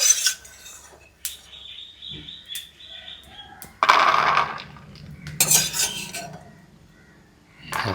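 Roasted peanuts scooped out of a pan, giving a few dry rattling scrapes and metallic clinks in irregular bursts, fairly close, with birds chirping faintly in the background and no talk.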